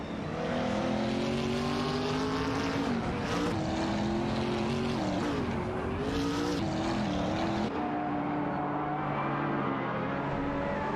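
A racing car engine roars at high revs, its pitch climbing and dipping through gear changes as it speeds away, loud and steady throughout.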